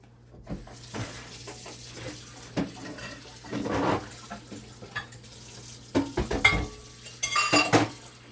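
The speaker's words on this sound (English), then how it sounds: "Just wash my hands off, all the flour in my hand" Tap water running while hands are rinsed of muffin flour at a kitchen sink, with scattered clinks of dishes and cutlery and intermittent splashing bursts, close and moderately loud, no talking.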